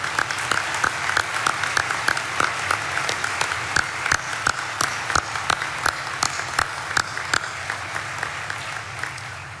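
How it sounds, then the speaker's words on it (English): Loud, sustained applause from a university graduation audience for two honored women, dense steady clapping with sharp individual claps standing out, filling the whole stretch. "I ask that you join me in giving an incredible applause and thank you to these two ladies."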